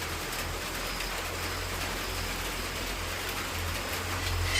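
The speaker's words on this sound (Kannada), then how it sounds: "ಇವಾಗಿನ್ನ ಸ್ಟಾರ್ಟ್ ಆಗ್ತಾ ಇದೆ ಮಳೆ" Rain is just beginning to fall, a steady, even wash of patter with a faint low hum underneath, swelling slightly toward the end, no voices.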